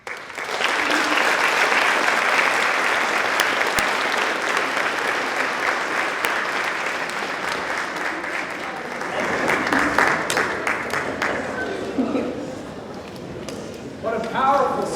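Sustained audience applause at a rally, a dense wash of clapping that runs loud and steady for several seconds, eases slightly, then swells again, with crowd voices and cheers mixed in toward the end.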